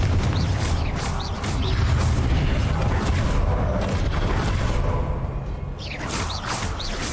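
Confringo fire spell bursting in the Hogwarts Legacy video game, loud rumbling booms and whooshing blasts overlapping continuously, with swishing magical sweeps rising at the start and end.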